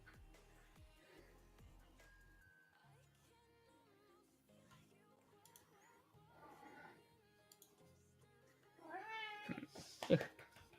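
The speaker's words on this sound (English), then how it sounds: "My cat is here as well. My lovely cat." A pet cat named Helmut meows a few times, faint at first, then louder and closer toward the end, with a quiet indoor background and occasional soft voices.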